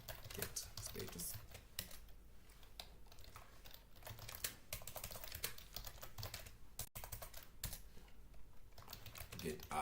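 Someone types a git commit message on a computer keyboard, giving a quiet, continuous patter of keystrokes in uneven bursts over low background noise.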